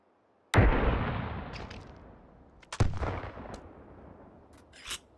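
Gunfire in the VR shooter Hot Dogs, Horseshoes & Hand Grenades, fired at flare rounds: two heavy, booming shots about two seconds apart, each with a long decaying tail, then a smaller pop near the end.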